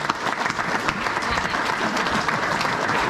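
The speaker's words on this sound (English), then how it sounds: "I feel that he deserves a round of applause." A luncheon club audience breaks into a round of applause, many hands clapping in a thick, continuous wash that stays loud and even from start to finish, with no speech over it.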